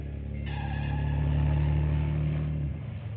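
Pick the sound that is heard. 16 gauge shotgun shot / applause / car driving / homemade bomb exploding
car driving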